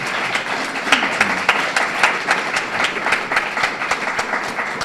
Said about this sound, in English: please give a big round of applause to these candidates